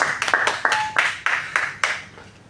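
A small indoor group at a personality development training session claps in several sharp, uneven bursts, fairly close and moderately loud, with no talk over it.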